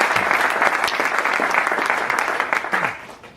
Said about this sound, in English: Please give Kim and Dan a round of applause